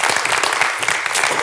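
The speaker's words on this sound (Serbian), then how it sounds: "Dušan Kaličar, ja veliki aplauz za njega" A studio audience gives actor Dušan Kaličar a brief, dense round of applause, a steady wash of close, many-handed clapping with no pause.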